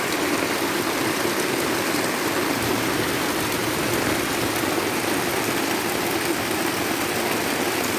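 Swollen, rain-fed stream water rushes loudly and continuously in a steady broadband roar, close by and unbroken, with no voices.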